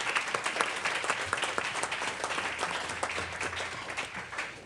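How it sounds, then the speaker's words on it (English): Audience applause at a New Orleans evening meeting, a dense, steady wash of many hands clapping that holds at a fairly even level throughout before easing slightly at the end. "Let's give her another round of applause."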